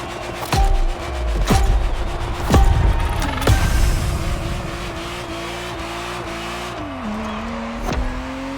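A Ferrari Testarossa in The Crew Motorfest racing game revs hard and loud, its flat engine note climbing through repeated gear shifts with sharp drops between them, close and alone.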